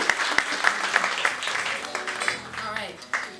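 An audience at the Mid-Atlantic Song Contest applauds, with a few sharp, separate claps over a noisy room and a voice talking through it.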